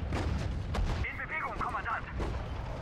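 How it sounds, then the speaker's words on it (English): Artillery and gunfire from the World War II strategy video game Sudden Strike 4, a dense, continuous roar of booming shots and rumbling blasts filling the whole clip with no pauses. "What's shooting at us?"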